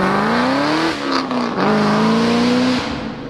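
A Chevrolet Corvette Grand Sport pulls away loudly, its engine note climbing, dipping at a gear change, then rising again before fading slightly as it moves off.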